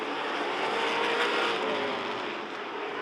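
Race cars in a Mid-Am feature at a national short track championship, a loud, continuous engine roar of several cars running together close by, swelling slightly and then easing, with no voices over it.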